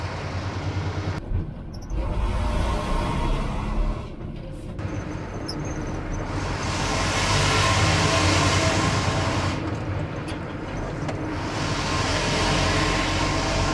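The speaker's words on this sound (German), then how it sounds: "Ich könnte ganz gemütlich mit 1200 Umdrehungen meine 40 km/h mit dem Anhänger fahren" A Mercedes Unimog agricultural tractor pulls a trailer during a maize harvest, its engine and rolling noise making a steady, loud, low rumble that swells slightly midway and carries on throughout without speech.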